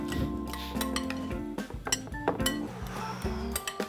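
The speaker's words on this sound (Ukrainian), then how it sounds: "Розмішуємо." A spoon stirs and clinks against a pot of steamed buckwheat porridge mixed with cheese, giving quick metallic taps and scrapes close up.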